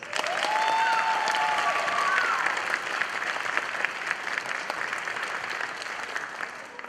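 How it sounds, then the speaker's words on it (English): Audience at a school spring orchestra concert claps loudly; the applause peaks early, then eases slightly, with a brief whistle cutting through near the start. "round of applause."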